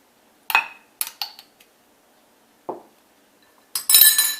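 A utensil clinks against a bowl while chopped onions are mixed thoroughly for a stuffed chicken breast filling: several sharp, separate clinks and a soft knock, then a longer scraping rush at the end. No one speaks.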